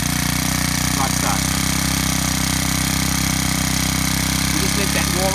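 A BC35TS-2 petrol line trimmer engine idles steadily on choke while warming up, a loud continuous buzzing drone with no breaks.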